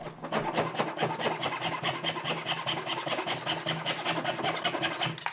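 A hand saw cuts waste from a wooden joint in quick, regular back-and-forth strokes, a close rasping rhythm that continues steadily throughout without speech.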